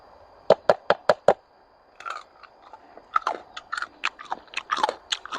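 Close, loud bites and crunchy chewing on crispy fried pork belly, first five sharp crunches in quick succession, then a pause and a longer run of irregular crackly chewing.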